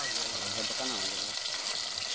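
Small fish frying in a pan set over an open fire beside a lagoon, giving a steady, close hiss and crackle of hot oil that runs without a break, with faint low rumble underneath.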